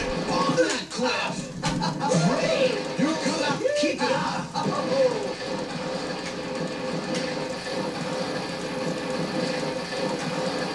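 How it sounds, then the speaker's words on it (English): A train rumbles past in a video game with clattering wheels and metallic squeals, mixed with game effects and a voice talking over it. "Yeah, I just ran into the train."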